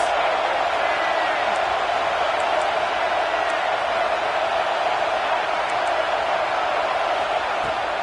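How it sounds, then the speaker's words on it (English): A loud stadium crowd at an American football game roars in a steady, unbroken wall of noise that holds at the same level throughout, with a commentator's voice over it. "This crowd trying to make life miserable for this offense."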